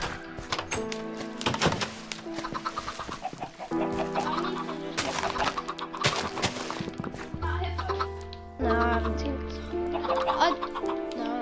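Chickens in the video game Minecraft give short clucks amid game sounds and background music, while players talk over them.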